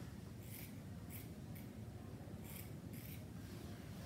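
Scissors snip away excess plaster bandage during a wrist cast for a Colles fracture in an emergency department, giving about five quiet, crisp cuts spaced irregularly over a low background hum.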